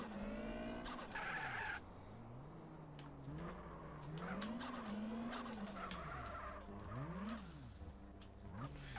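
Car tyres squealing through a fast corner in the MTA driving game, wavering screeches that rise and fall over a steady engine drone, repeating across several seconds.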